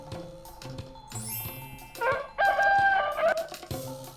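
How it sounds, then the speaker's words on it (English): A farm chicken clucks in short bursts, then a rooster crows loudly and clearly, with faint jingling chimes in the background. "Chicken. Chicken also lives at farm,"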